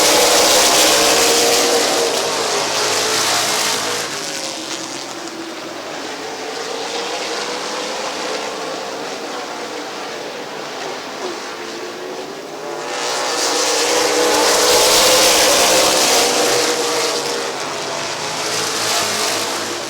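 Race cars roar past side by side at Midvale Speedway, loud engine wash swelling at the start and again near the end as the pack sweeps by, fading to a steadier distant drone between passes; no talking.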